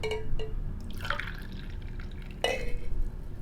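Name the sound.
brewed coffee being poured into a cup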